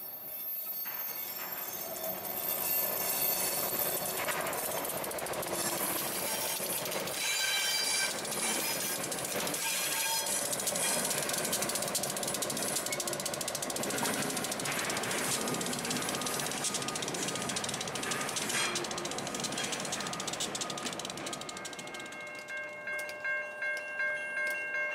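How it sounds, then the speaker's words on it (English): Z628 freight train rolls onto the bakery feed track at Doswell, Virginia, with steady wheel rumble, squeals and clanking couplers that persist throughout, fairly distant and continuous. "After reorganizing his train, the Z628 heads to work the bakery feeds track."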